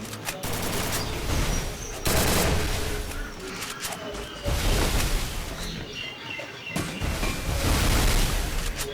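MP40 gunfire in the Free Fire video game, loud rapid bursts of automatic shots in several long volleys with brief gaps between them.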